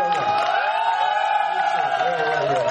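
Korean talk-event audience lets out a sustained, loud collective cheer for an invited author, many voices whooping together in a steady roar throughout.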